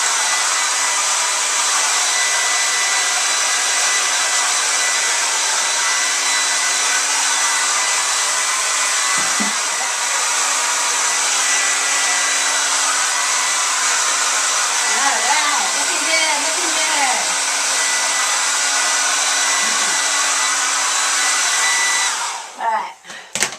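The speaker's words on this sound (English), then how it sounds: "let's get you blow dry." A handheld hair dryer blow-drying hair after a Farrah Fawcett-style haircut in a salon, a loud constant close whir lasting over twenty seconds before cutting off, with faint voices underneath.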